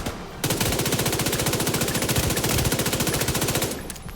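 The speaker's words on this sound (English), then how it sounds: "This is an SMG and we're shooting these guys from like 30 odd meters away." Submachine gun fire in The Division 2, a single sustained automatic burst of rapid, evenly spaced shots lasting several seconds, loud and close, starting and stopping abruptly with no talk.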